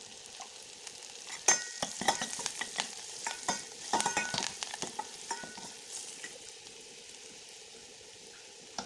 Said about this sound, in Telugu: కొద్దిగా కరివేపాకు బాగా ఫ్రై చేయాలి